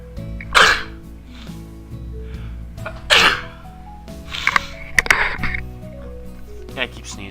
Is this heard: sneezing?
yes